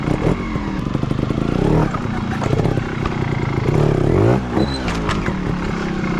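Trials motorcycle engine running steadily while the bike hops between obstacles, with a sharp metallic clatter of the skid plate striking near the middle and another knock later. The riding is close and loud throughout.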